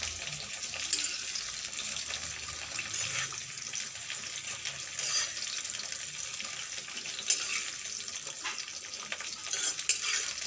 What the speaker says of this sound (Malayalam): വെണ്ടയ്ക്ക ഒന്ന് വഴറ്റിയിട്ട് സാമ്പാറിലേക്ക് ചേർത്ത് കൊടുക്കുക